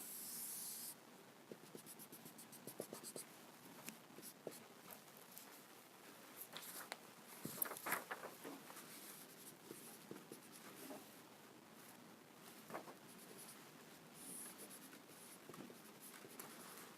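Marker or chalk drawing a sketch on a board, a series of short scratchy strokes and taps in uneven bursts, close but quiet.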